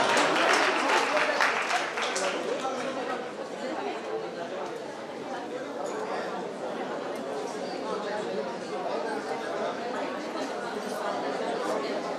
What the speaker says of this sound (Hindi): जोरदार तालियों से उनके अच्छे भाव।